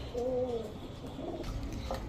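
High-flyer Giribaz pigeons, including a silver one, coo in low, soft, rolling calls, close but quiet, with a couple of short phrases and no talking.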